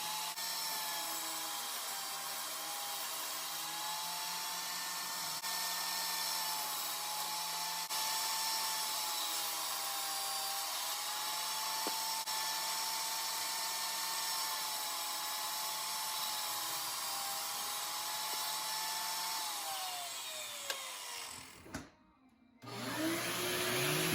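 A table saw fitted with a new blade cuts wooden shelf pieces for a closet cabinet, giving a steady, loud whine that holds nearly unchanged for about twenty seconds before winding down abruptly, with a short clatter at the end.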